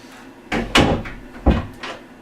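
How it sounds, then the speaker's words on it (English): A door handle being fitted onto an interior door gives two sharp, close knocks and clunks of metal hardware seating against the wood, each followed by a short rattle, with quiet pauses between. "that puts the door handle on"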